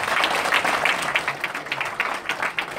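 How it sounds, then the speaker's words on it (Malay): An audience applauding for Maimunah at a bonus-matching business event, a continuous crowd clapping with distinct individual claps standing out in an uneven rhythm, fairly loud and close. "Berikan tepukan paling gemuruh untuk Maimunah."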